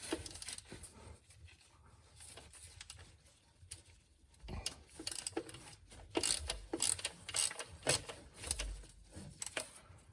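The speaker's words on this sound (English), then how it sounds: "This bolt does have to come out to open this up, and I may have to loosen the whole thing." A ratchet works a bolt on the 4WD actuator cover of a V8 Toyota 4Runner, quiet irregular clicking bursts that grow busier and louder in the second half, close and without talk.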